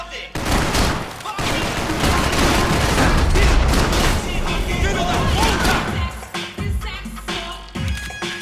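Heavy AK rifle fire in the video game Max Payne 3, a loud sustained fusillade of overlapping shots and booms with dense crashing impacts that thin out near the end.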